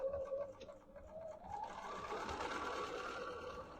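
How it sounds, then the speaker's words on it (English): A sewing machine runs steadily while stitching a quarter-inch seam with a backstitch, its motor whirring close and fairly quiet, with the pitch rising as the stitching speeds up. "So here we go, 1/4 inch on each side. I always do a back stitch"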